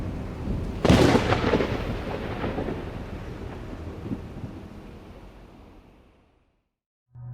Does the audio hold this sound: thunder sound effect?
yes